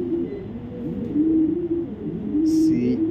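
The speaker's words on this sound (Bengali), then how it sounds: "কবুতরটা ডাইরেক্ট ইম্পোর্টেড চায়নার কবুতর" An imported Chinese pigeon at a racing pigeon farm coos in low, repeated throaty phrases, close and clear, with a brief higher chirp from another bird near the end.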